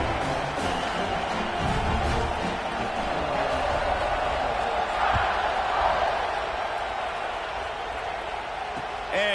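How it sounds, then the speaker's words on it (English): Football stadium crowd at a Colorado game buzzing after a score, a steady broad roar of many voices that holds at the same level throughout. "this crowd is buzzing after that last score"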